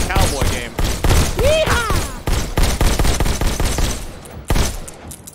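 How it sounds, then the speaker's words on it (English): Gunshots from the VR game Bullet Train VR crack out in a loud rapid volley of repeated blasts with a short ringing whoosh, briefly pausing before a final shot. "Just squeeze the trigger to shoot"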